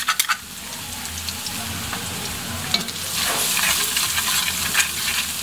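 Garlic sizzling in cooking oil for pancit canton: a continuous close frying hiss with occasional stirring scrapes, growing slightly louder partway through.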